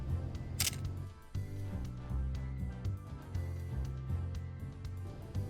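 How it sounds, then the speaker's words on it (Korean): A single sharp shutter click from a Canon A-1 35mm film camera, heard once early on over steady background music. "셔터를 누르시면 돼요."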